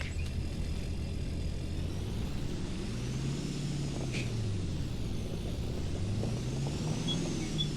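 A brand-new truck backs slowly into a barn garage, its steady low engine rumble running throughout at moderate distance, with a brief hiss near the middle.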